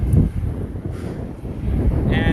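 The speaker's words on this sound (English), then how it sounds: "Straight into the wind." Strong headwind roaring across the microphone of a cyclist on a road, a continuous close buffeting rush that covers the whole stretch.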